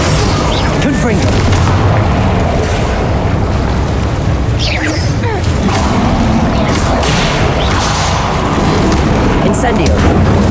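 Confringo fire-blast spells bursting over and over in the Hogwarts Legacy video game, with dense booming impacts and rumbling explosions layered into a continuous loud battle din.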